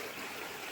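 A flowing stream gives off a steady, soft rushing and trickling hiss, continuous and faint, with no voices over it.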